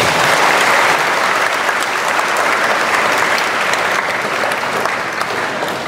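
Sustained, dense applause from a large church congregation at a Confirmation service fills the whole stretch, steady and loud without letting up.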